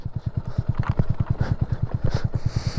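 A Honda Grom motorcycle engine idles up close, a steady fast-pulsing low thump with a slightly uneven, rattly beat that runs continuously through the whole stretch.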